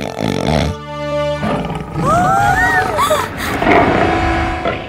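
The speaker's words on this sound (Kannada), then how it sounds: "ಹುಲಿ ಇರೋ ಹಾಗೆ ಪ್ರತೀತಿ ಆಗ್ತಿದೆ. ಅನ್ನಿಸ್ತಿದೆ ಇಲ್ಲೇ ಎಲ್ಲೋ ಹತ್ರದಲ್ಲೇ ಇದೆ." A deep, growling big-cat roar rises and rumbles over dramatic music, loud and close, with voices nearby.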